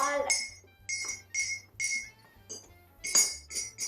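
A spoon clinks rapidly against the inside of a cup of hot tea, sharp bright taps in an uneven rhythm, close and moderately quiet with a soft low hum beneath.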